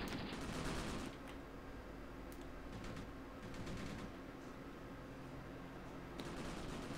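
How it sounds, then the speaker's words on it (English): Distant, muffled bursts of small-arms and machine-gun fire rattle on and off in the Graviteam tactical war game, a Soviet versus China 1969 battle, fairly faint against a steady low background rumble. "they're firing at the far group of troops"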